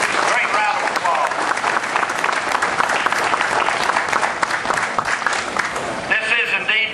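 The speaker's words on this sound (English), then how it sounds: "give all the cadets and the staff, Colonel Cass, Sergeant Major, a great round of applause" Sustained applause from a large crowd at a university Salute to Veterans ceremony honouring cadets and staff, dense steady clapping throughout with a faint voice briefly rising near the end.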